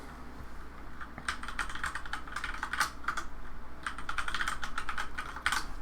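Fingers tap out a password on a computer keyboard during a Fedora Linux installation, a close run of irregular clicking keystrokes with brief pauses, alone against a steady low hum.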